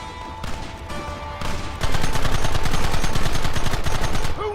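Sustained gunfire in Red Dead Redemption, early scattered shots giving way to loud, rapid continuous firing that fills the second half, close and dense.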